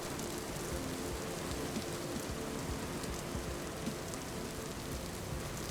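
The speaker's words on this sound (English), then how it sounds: "The rain in Vintage Story is unreasonably loud by default" Steady, dense rain falls in the Vintage Story video game as a weather effect, a constant loud hiss of drops on surfaces with no let-up and no voices.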